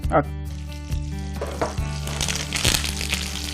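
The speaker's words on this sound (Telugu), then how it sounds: "ఇప్పుడు ఇందులో మనం కొద్దిగా కరివేపాకు, తాలింపులో కరివేపాకు వెళ్తుంది" Curry leaves frying in hot tempering oil for a Telugu ulavacharu (horse gram) dish, giving a loud, steady close sizzle with a few sharper crackling bursts throughout and no talking.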